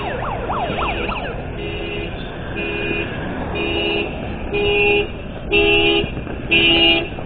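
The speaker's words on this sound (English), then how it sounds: "You can hear car alarms going off." Car alarms blare on a street during a Fourth of July fireworks night, with repeated electronic whoops and then steady pulsing tones that grow louder, heard from a bicycle.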